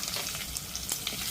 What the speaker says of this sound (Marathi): अर्धा चमचा मोहरी टाकलेली आहे, अगदी थोडेसे जिरे आणि कढीपत्ता आणि ते ठेचलेलं लसूण